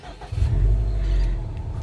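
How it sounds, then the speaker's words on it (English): A 2017 Subaru WRX STI engine on a hills drive, a steady low rumbling drone heard from inside the car that swells briefly and holds, fairly loud with no talk. "It does have a good engine note"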